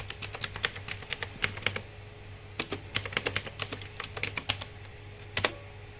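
Router configuration commands typed on a computer keyboard, a close run of quick, uneven key clicks in bursts with short pauses between them.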